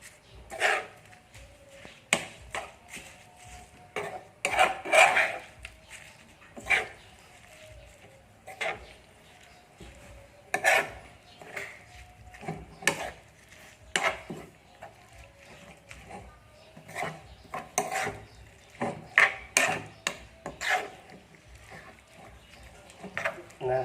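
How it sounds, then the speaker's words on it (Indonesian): Grilled squid rice being stirred in a pan, irregular clinks and scrapes of a utensil against the pan that recur in bursts throughout, with a person talking between them. "Lalu aduk seperti ini guys ya"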